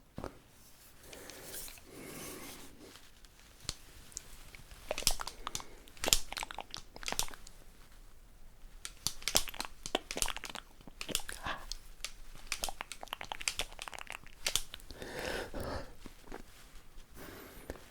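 Old metal scissors snip through hair during a haircut, a series of crisp, close clicks and crunchy cuts coming in irregular bursts with no voices.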